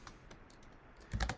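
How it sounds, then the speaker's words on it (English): Code being typed on a computer keyboard, with soft scattered keystrokes giving way to a quicker, louder cluster of taps at the end, close and alone. "I'm going to manually type it out here"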